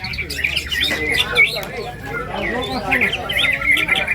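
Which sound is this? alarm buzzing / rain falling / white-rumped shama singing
white-rumped shama singing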